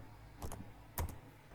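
Computer keyboard typing at a desk: two short clusters of soft key clicks about half a second apart, close and fairly quiet, with no talking.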